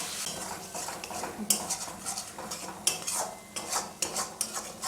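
A spice masala for Bengali-style ghugni is stirred in a pan, with a utensil scraping and clinking against the metal in irregular strokes and faint frying underneath. The sound is close and nobody speaks.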